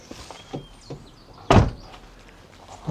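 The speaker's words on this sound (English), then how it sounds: "Might help if the door shuts." The door of a Mk1 Audi TT shuts with one solid, close thunk midway, after a few light clicks from the lock mechanism, with no talking.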